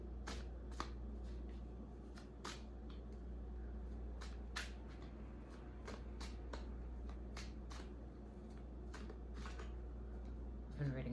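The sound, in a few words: shuffling tarot cards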